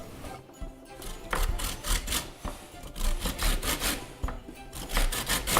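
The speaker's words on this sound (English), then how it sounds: "I'm going to start mixing all the dry ingredients" Dry ingredients for vegan panettone being mixed in a bowl, with a soft scraping and rubbing of a utensil in quick rhythmic strokes, fairly faint and close.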